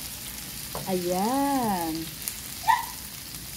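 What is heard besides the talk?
butter shrimp sautéing in a pan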